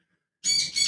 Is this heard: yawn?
no